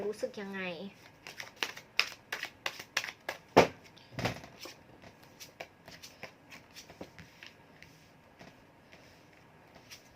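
Tarot cards being shuffled, with rapid papery riffles and soft taps in an irregular rhythm, fairly quiet and close, after a brief snippet of voice.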